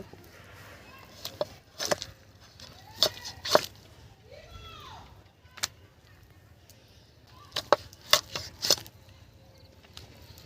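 Sharp chopping knocks land in short clusters as a knife cuts a cleaned cock chicken, two or three quick blows at a time, separated by quieter pauses with some faint movement between.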